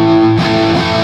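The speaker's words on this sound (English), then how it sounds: "lots of distortion" A high-gain guitar amplifier with its gain turned up gives a loud, dense, sustained distorted guitar tone that shifts texture partway through. It plays alone with no talking.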